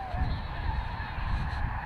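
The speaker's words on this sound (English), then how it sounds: "we stumbled on an entire field of sitting birds" A flock of birds sitting in an open field honks and calls continuously, goose-like cries rising over a low steady rumble of outdoor noise.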